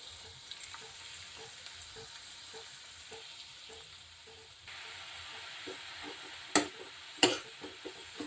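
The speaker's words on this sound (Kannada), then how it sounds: "ಎಣ್ಣೆಯಲ್ಲಿ ನಾವೀಗ ಈರುಳ್ಳಿಯನ್ನು ಹಾಕೋಣ. ಇದು ಕೂಡ ಒಂದು 2 ನಿಮಿಷ ಎಣ್ಣೆಯಲ್ಲಿ ಸ್ವಲ್ಪ ಕರಗಬೇಕು." Onions frying in hot oil for a methi and chickpea-greens recipe, a steady low sizzle and hiss with soft clicks of stirring and two sharp louder clatters near the end, no voices.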